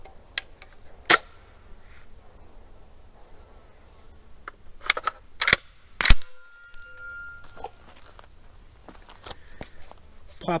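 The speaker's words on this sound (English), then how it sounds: "These are the first 4 shots so far" Rock Island Armory VRBP-100 12 gauge bullpup shotgun firing outdoors, a few loud sharp blasts spaced unevenly among quieter mechanical clacks and handling sounds, with a faint background buzz.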